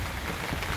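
Heavy rain pours during a flood in a waterlogged street, a dense, steady hiss of drops on water and surfaces with no talking.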